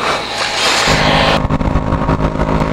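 A Yamaha RX100 motorcycle engine revs loudly, a harsh rising whine that cuts off into a lower, throbbing idle.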